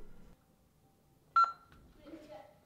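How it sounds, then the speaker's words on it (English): A smart lock gives a single short, clear beep as its pairing button is held down, heard close in an otherwise quiet room, followed by a brief electronic tone or voice prompt. "I'm just gonna hold down on the little button until it beeps."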